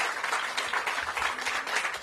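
Outdoor crowd at a groundbreaking for recreational fields on the RFK Stadium campus applauding district agency staff, steady moderately loud clapping with slight pulsing throughout, no talk on top.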